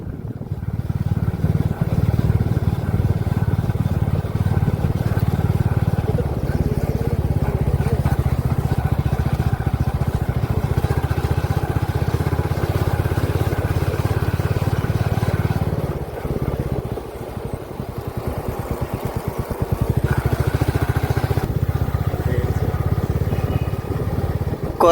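A motorbike travels steadily along a forest road through Vazhachal toward the Malakkappara check post, its engine droning loud and close for the whole stretch, with a brief dip in the middle before the steady hum returns.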